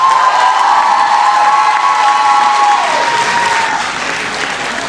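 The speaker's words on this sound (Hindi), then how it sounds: "मैं कहता हूँ आप अपने लिए भी तालियां बजाएं एक बार" An audience at an Urdu mushaira poetry gathering bursts into loud, sustained clapping and light cheering, with a ringing microphone tone over it as the applause slowly eases.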